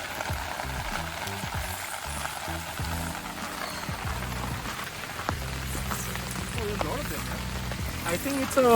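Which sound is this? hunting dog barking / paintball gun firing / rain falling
rain falling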